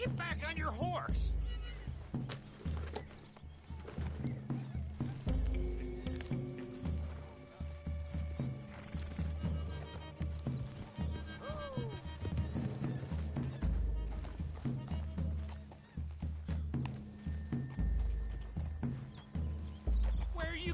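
Horse hooves clip-clop steadily amid a busy Red Dead-style game scene, with a whinny and mechanical clatter mixed under the rhythm and voices talking over it.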